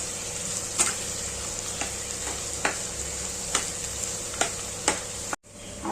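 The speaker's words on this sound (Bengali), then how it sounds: "আলুটা হচ্ছে ফোড়নে দিয়ে ভাজা ভাজা করছি" Potatoes fry in a spice tempering with a steady, close sizzle, punctuated by sharp intermittent clicks of a spatula against the pan.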